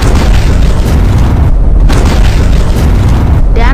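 A bomb strapped to a man's body detonates in a film scene, a massive sustained roaring blast with deep rumbling that stays loud throughout, briefly dipping before surging again.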